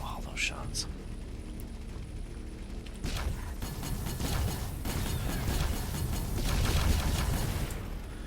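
Bolter weapons firing in the space game Avorion, a steady stream of rapid crackling bursts that builds into a dense, continuous rattle over a low rumble.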